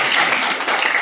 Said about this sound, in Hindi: तो आप सबके लिए बहुत बहुत तालियां